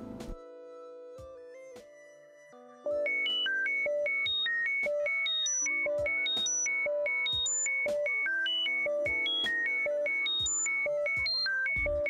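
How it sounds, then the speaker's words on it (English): A cell phone plays a rapid sequence of electronic tones for machine-to-machine communication, a steady stream of short pitched beeps following a lower droning tone, clear and continuous with no voices. "a cell phone, or any machine that can play audio, that sends a sequence of tones"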